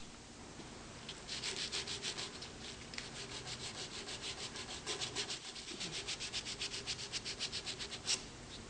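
Hand sanding of a turned wood piece on a stopped lathe, a rapid back-and-forth rasping rub repeated in even strokes at close range.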